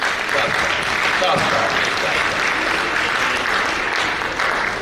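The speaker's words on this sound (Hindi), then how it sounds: "मेरी ओर से और सबकी ओर से आई थिंक तालियां" An audience at a university annual day for undergraduate students breaks into sustained, dense applause, loud and continuous, while someone speaks over it.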